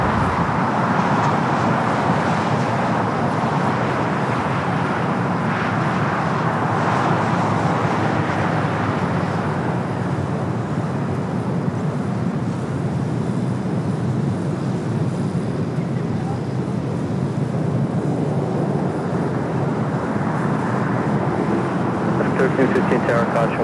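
A Boeing 787 Dreamliner rolls down runway 25 Right at LAX, a loud, steady jet roar that fades a little mid-way and then builds again, heard from a distance.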